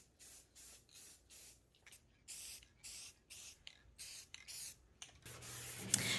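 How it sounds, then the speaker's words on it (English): Short, hissing bursts of an aerosol spray paint can repeat in a quick rhythm, close and fairly quiet, ending in a longer continuous spray. "I sprayed a coat of spray paint"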